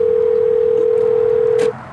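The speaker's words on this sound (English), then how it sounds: "Go to number one speed dial." A single steady telephone tone sounds loud and close for nearly two seconds, then cuts off abruptly.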